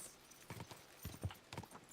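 Horse hooves clip-clopping in the medieval video game Kingdom Come: Deliverance II, a quick, uneven run of close hoof strikes over faint background ambience, with no talking.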